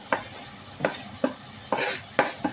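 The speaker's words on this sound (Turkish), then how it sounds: "kıymam yeterince e, kavruldu" Ground meat frying with peppers in a pan is stirred in a series of sharp scraping strokes, about six in a steady rhythm, over a soft sizzle.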